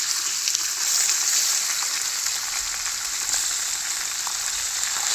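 Chicken sizzling in a hot pan while being cooked for chicken gravy makes a loud, dense, unbroken sizzle close by, with no speech.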